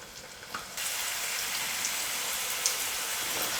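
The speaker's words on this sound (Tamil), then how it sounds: "இப்போ ரெடி பண்ணியிருக்கிற மாவு எடுத்து எண்ணெயில் போட்டுக்கலாம்." Rava dough pieces drop into hot oil at medium flame, and a quiet background gives way abruptly to a loud, rain-like crackling sizzle that holds steady and close.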